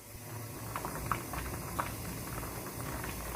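Cheonggukjang stew, a Korean fermented soybean stew, bubbling in a pot with a soft, steady simmer broken by a few faint pops and bursts, heard alone at low level.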